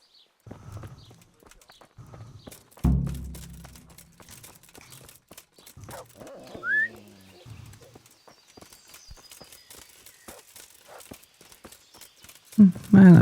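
Horse hooves clip-clop in the Kingdom Come: Deliverance video game, a steady run of soft near footfalls under game dialogue, with a brief louder burst partway through.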